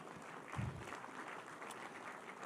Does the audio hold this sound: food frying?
no